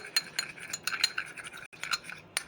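Homemade lip and cheek tint being mixed until foamy, giving a run of quick, light clinking and scraping strokes in a small container, close and fairly quiet, with a brief pause near the end.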